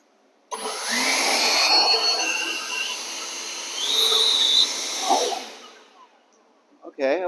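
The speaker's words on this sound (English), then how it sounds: "I'm going to use a leaf blower and work on that" A loud, steady rushing leaf blower roar starts abruptly and runs for several seconds, shifting in pitch, then cuts out near the end.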